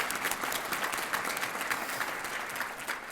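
An audience at a student distinguished service award ceremony breaks into sustained applause, many hands clapping in an even, continuous wash without pause.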